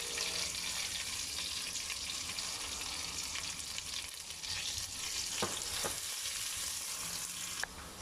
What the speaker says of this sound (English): I put in the onions, which I sliced.